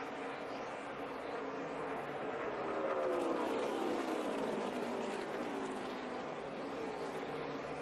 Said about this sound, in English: You can hear him right there. He had to get out of the throttle just a little bit.